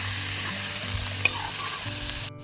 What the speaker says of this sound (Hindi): अब 2-3 मिनट तक इन हरे पत्तों को अच्छे से भून लेंगे।